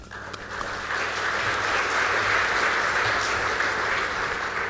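Steady, sustained applause from a conference audience welcoming a speaker to the stage, dense clapping filling the room without talk.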